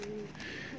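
A single soft coo from a highflyer pigeon, brief and close, heard alone.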